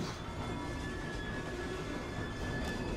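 A steam-era train rumbles along the tracks in Victorian London in the video game Assassin's Creed Syndicate, a steady low clatter and roar with no talking.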